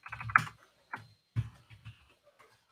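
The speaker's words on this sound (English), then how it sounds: "We'll do some typing." Computer keyboard typing with scattered, irregular keystrokes in short clusters, close and fairly quiet, with gaps of silence between bursts.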